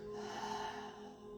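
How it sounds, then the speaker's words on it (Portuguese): A single deep, steady exhale during a guided breathing exercise, close and breathy, sustained for over a second with no talk. "Expiramos, soltamos tudo, esvaziando."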